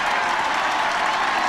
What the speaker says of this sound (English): Terry Newton leaves to good applause from the Bradford supporters